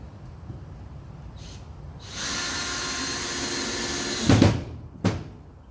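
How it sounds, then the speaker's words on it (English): A Ryobi drill bores into pine wood, a continuous whirring grind of about two seconds, then two short louder bursts as the bit bites and stops. Faint background hum runs throughout. "Okay, that's the Ryobi drill into the pine."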